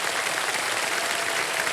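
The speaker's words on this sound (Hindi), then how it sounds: "ताली बजती रहे" Studio audience on a television quiz show applauding steadily, a dense, even wash of clapping that holds at moderate level from start to finish with no voices.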